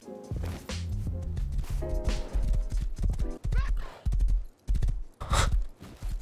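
A horse in the survival video game Rust clip-clops with quick hoofbeats and a neigh, while game music and effects play alongside.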